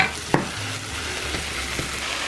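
Meat frying in an already hot pan for a low-carb casserole, a steady close sizzle throughout with a brief clatter near the start and a couple of faint knocks, no voices.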